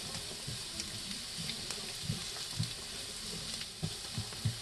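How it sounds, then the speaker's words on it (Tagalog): Onions are stirred into rice frying in a pan, giving a steady sizzle broken by repeated soft scraping and clinking strokes of a utensil, close and moderately loud. "Mix na natin yung sibuyas niyan."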